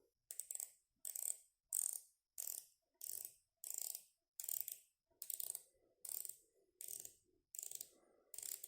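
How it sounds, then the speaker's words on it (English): Casio MDV-106 dive watch bezel turned in a series of about a dozen crisp, evenly spaced ratcheting clicks, each a short bright burst, close and clear with no talking. "I just want you to hear the sound of this bezel."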